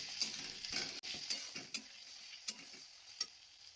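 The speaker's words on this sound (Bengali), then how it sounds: "এখন আমি এর মধ্যে সামান্য একটু টমেটো কুচি অ্যাড করে দিলাম।" Chopped tomato fries with onion, ginger and garlic in a pan, a soft steady sizzle broken by several light spoon scrapes and taps, fairly quiet and with no talking.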